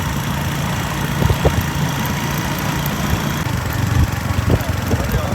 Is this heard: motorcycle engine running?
yes